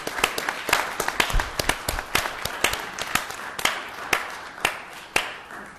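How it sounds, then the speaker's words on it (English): Applause at a village council meeting for a commander's birthday: a room of people clapping steadily, dense overlapping claps with sharp individual hits, sustained throughout without any voices. "I just want to give a round of applause to Commander Paoli"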